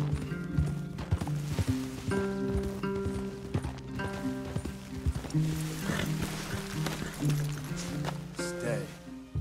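Horses' hooves clop in a steady rhythm in the video game Red Dead Redemption 2, with mixed mechanical clicks, beneath continuous melodic music and a speaking voice.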